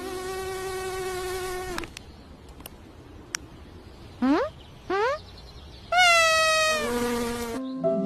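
A high mosquito whine buzzes loudly at the start, falls silent, then returns for the final seconds, with brief rising chirps and short tones in between.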